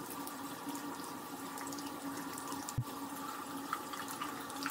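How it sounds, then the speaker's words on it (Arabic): Tap water running steadily in a sink while a face is washed, a soft continuous splashing hiss close by with a small thump partway through. "غادي نغسل وجهي"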